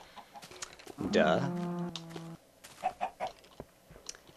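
A chicken in Minecraft gives a loud cluck followed by a few softer clucks, and a person speaks briefly.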